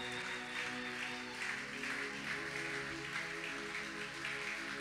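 A church congregation applauds in a continuous, fairly distant wash of clapping over sustained organ or keyboard tones, with no clear speech.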